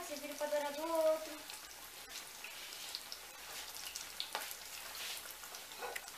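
Breaded chicken fries in hot oil with a faint, steady sizzle and scattered light pops, with a short voice-like tone near the start.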